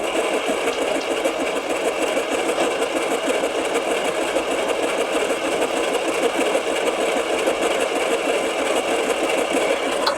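An 80s turbo barn-find car, left unused for 33 years, has its engine running steadily and evenly at close range for the whole stretch, with no voices.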